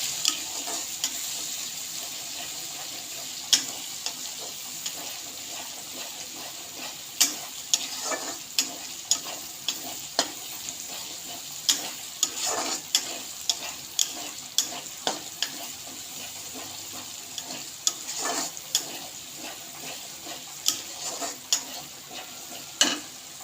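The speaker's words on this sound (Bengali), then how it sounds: "এইভাবে নেড়ে চেড়ে লাল করে নিব" Spices and plenty of chili powder stir-fried in a pan for a soybean and chickpea dish, a steady hiss of frying broken by frequent sharp scrapes and taps of the spatula, close and without talk.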